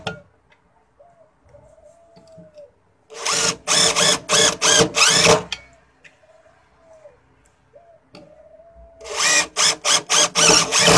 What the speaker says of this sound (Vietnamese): Bây giờ tôi sẽ dùng mấy con vít tự khoan để tôi khoan bắt